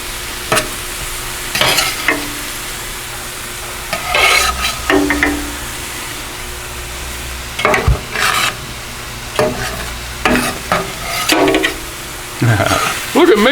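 Cheesesteak meat and onions are stirred and scraped with a spatula on a commercial electric flat-top griddle, in repeated scraping strokes over a steady sizzle, with occasional talk nearby.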